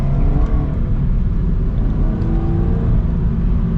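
A Subaru BRZ's engine gives a loud, continuous low rumble from inside the car, rising slightly as it revs during a rev match, and no one speaks.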